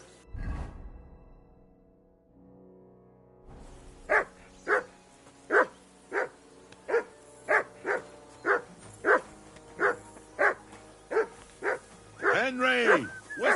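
A dog in Kingdom Come Deliverance 2 barks in a regular series of about a dozen sharp, evenly spaced barks after a quiet start, ending in a whiny yelp.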